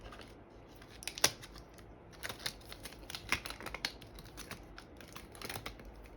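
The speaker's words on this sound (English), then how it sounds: "as I'm going to start cutting off the excess" Blade snipping away excess adhesive craft vinyl around an applied heart design, a scattered run of faint, crisp clicks and cuts at close range in an otherwise quiet room.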